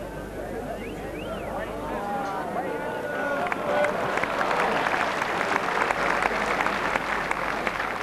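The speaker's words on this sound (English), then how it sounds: "Generous applause." Spectators at an indoor lawn bowls match applauding, the clapping building into a steady dense round after a calm stretch, with a commentator talking over the early part and faint crowd murmur underneath.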